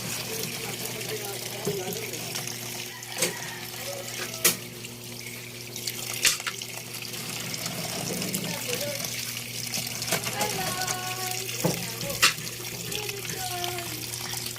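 Small talangka crabs being rinsed under running tap water in a sink, a steady close splash and gush of water with occasional louder knocks and clatters, with faint talk in the background.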